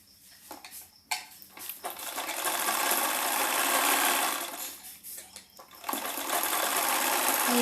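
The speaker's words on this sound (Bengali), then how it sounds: "প্রেস করার পর আমি এটাকে সেলাই করে নিচ্ছি" A sewing machine stitches padded blouse fabric, its fast mechanical whir running in several bursts separated by short pauses, close and fairly loud, with no voices.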